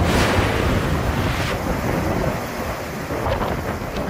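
Hurricane Milton's heavy wind roars in a steady broadband rush with driving rain in St. Petersburg, Florida, loud and continuous throughout, with no voices.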